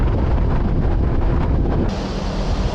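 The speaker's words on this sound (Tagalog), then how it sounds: "Ang lamig ng simoy ng hangin" Cold wind roars steadily and loudly across the microphone of a motorcyclist riding a long bypass road in Nueva Ecija in the early morning, a dense, continuous rush with no voices.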